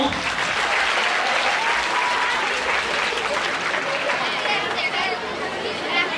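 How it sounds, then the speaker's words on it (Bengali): Audience applause at a live Bengali language competition event fills the whole stretch, a dense, steady clatter of many hands with a faint murmur of crowd chatter underneath. "রাশেদ ভাইয়ের জন্য একটা করতালি দিয়ে দাও"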